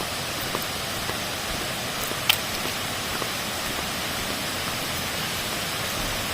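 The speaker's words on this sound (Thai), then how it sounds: "ถึงนะครับน้ำตกทานสวรรค์" A constant hiss of falling water fills the air at Than Sawan waterfall in Phayao, a loud unbroken rush with one faint brief tick partway through.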